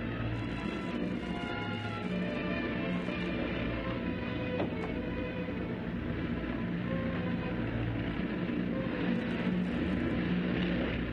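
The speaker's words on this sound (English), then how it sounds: "An aeroplane!" A 1930s-era propeller aeroplane drones steadily at a distance, a continuous engine rumble coming in to land, with no voices over it.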